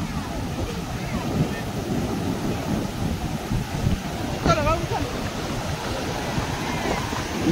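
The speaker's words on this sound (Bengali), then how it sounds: "দারুণ ঢেউ এসছে, দারুণ।" Sea waves washing in steadily, a low rumbling surf mixed with wind buffeting the microphone, continuous and fairly loud throughout, with a brief faint voice in the middle.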